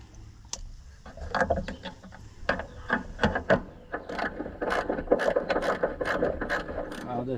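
Socket ratchet loosening a bolt on a White 4-150 tractor, with close, steady rapid pawl clicking in repeated bursts that grows busier toward the end and has no speech over it.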